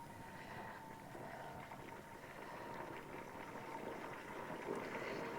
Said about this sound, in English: Here's our first boil